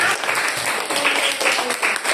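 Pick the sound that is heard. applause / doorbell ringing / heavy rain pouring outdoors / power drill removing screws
applause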